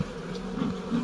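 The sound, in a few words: honey bees buzzing at a hive while adding a queen bee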